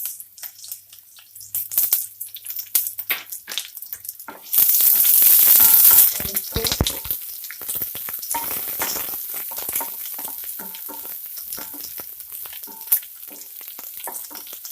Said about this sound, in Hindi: प्याज को हमें थोड़ा ब्राउनी कलर होने तक भूनना है